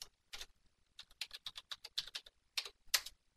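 Quick, irregular bursts of keystrokes on a computer keyboard as a password is entered, crisp and close with short pauses between clusters, no voices.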